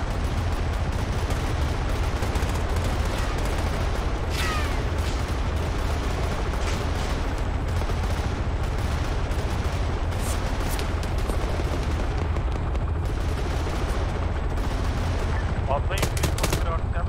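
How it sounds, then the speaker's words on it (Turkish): Dense, continuous gunfire from Arma squad combat on a Navy SEALs mission, with sustained bursts and scattered shots blending into a loud wall of battlefield noise, occasional sharper cracks standing out, and voices talking underneath. "Boşa sıkıyorlar ha, aksiyon yapıyorlar şu anda."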